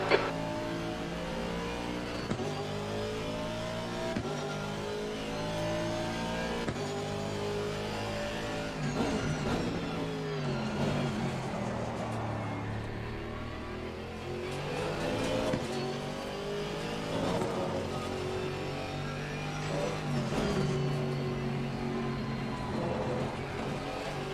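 GT3 race cars in Assetto Corsa Competizione at Kyalami drone steadily with rising and falling engine revs and gear changes, a continuous close engine roar with several cars swelling past.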